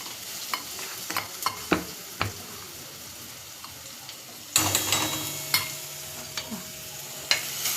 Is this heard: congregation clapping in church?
no